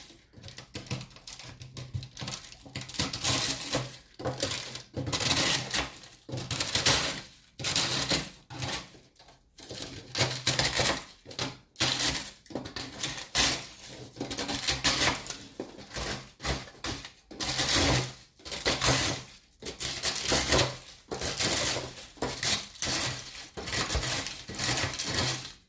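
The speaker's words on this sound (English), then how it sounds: "So you use some sort of scraping tool, like a little spatula would probably work too" Dried food being scraped off a dehydrator tray with a small spatula: repeated short scratchy strokes in an uneven rhythm, close and moderately loud, with no talking.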